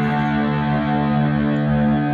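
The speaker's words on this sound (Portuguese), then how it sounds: "Que seria um overdrive bem forte" Electric guitar played through a strong overdrive distortion pedal from a boutique pedal lineup, giving a loud, sustained, thick saturated tone that rings steadily for the whole moment without any voice.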